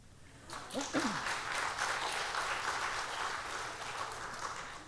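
A church congregation breaks into steady applause after a raised voice, the clapping swelling quickly and holding at moderate volume before gradually easing.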